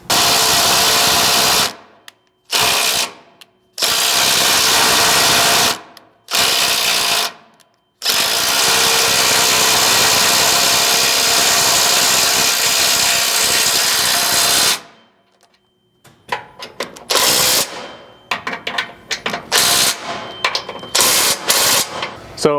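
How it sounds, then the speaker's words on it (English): An impact wrench with a 9/16 socket drives a 3/8 thread-cutting bolt into a Nissan Frontier truck frame, hammering loudly in several long bursts separated by silent pauses, then ending in short stuttering rattles. "grab the 3/8 thread cutting bolt, your 9/16 socket on your impact, and both install the bolt and cut these threads"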